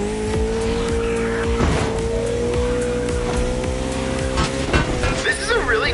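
Koenigsegg supercar in The Crew Motorfest racing game, engine droning steadily with shifting revs and brief tire squeals, with game music and voices running underneath throughout.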